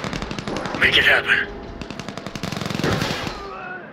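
Rapid bursts of machine gun fire in the video game Crossfire Legion, loud and close, with a radio-style voice speaking over the opening shots before the firing continues in short rattling strings.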